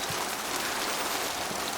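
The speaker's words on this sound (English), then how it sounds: "It's raining." Rain falls in the video game Mass Effect 2 as a dense, steady, fairly loud hiss of drops with no pause and no voices.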